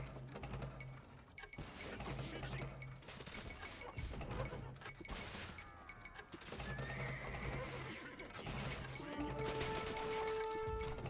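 An Age of Empires II battle plays quietly, with bursts of gunfire ability shots over clashing combat, crashes and a horse whinnying near the end.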